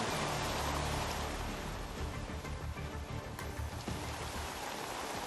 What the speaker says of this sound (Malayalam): അതിശക്തമായ മഴയാണ് ഉണ്ടാകുന്നത്.